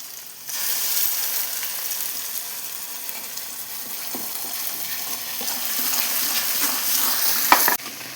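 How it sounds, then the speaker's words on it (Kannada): Masala for an egg drop gravy fries in oil with a soft, even sizzle close by, broken by occasional stirring and a sharp clink near the end. "ಇವಾಗ ಮಸಾಲೆಯನ್ನು ಸ್ವಲ್ಪ ಹುರ್ಕೊಳ್ಳೋಣ"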